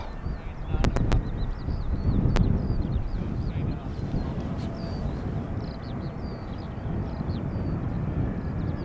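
An ITA Airways airliner at Amsterdam Schiphol's runway 18R on a morning gives a steady, broad roar that holds at close to even loudness, with faint bird chirps above it.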